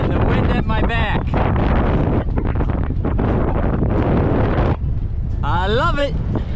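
Heavy wind buffeting a microphone on a flat road during a Trans Am bicycle tour, loud continuous roaring gusts with brief voice-like fragments.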